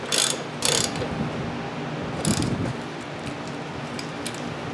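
A ratchet clicking as stock bolts on a front suspension with Bilstein B8 shocks are tightened, with a few bursts of rapid clicks near the start and again midway over steady low workshop noise.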